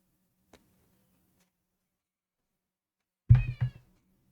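A pet cat meows at a door to be let inside, two or three short, fairly loud calls in quick succession near the end, after a faint tick and a long quiet stretch.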